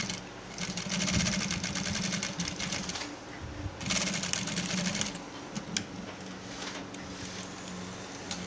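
A sewing machine stitching neck piping runs in quick rattling bursts, stopping and starting several times, close and clear with no talking.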